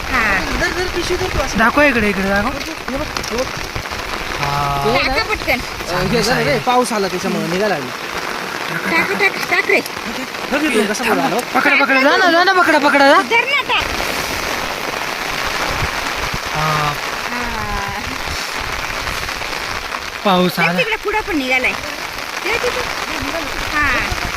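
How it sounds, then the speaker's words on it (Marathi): Steady rain patters loudly and continuously on a surface nearby, with people talking over the downpour throughout. "पाऊस आलाय ना"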